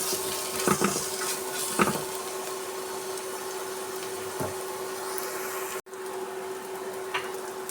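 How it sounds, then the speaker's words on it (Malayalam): Black chickpeas sautéed in a pan with salt, turmeric and chili powder give a steady, close sizzle with a faint hum, broken by a few soft scrapes and stirring clatters. No one speaks. "അത് വഴറ്റിയെടുക്കാം."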